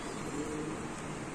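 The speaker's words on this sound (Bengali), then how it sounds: "এখানে আছে একটা কালো বিউটি মাদি কবুতর" A black female pigeon coos softly at a pigeon market, a brief, faint, low throaty call.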